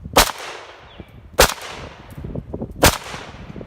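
Three loud, sharp WASR-10 rifle shots ring out about 1.3 seconds apart at an outdoor range, each crack trailing off into a short echo, with quiet between shots.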